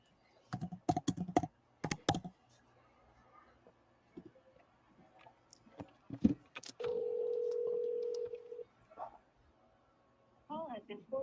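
Push-button telephone dialed for a call to a property seller, a string of short key presses and a steady tone lasting over a second, with brief clicks and speech before and after.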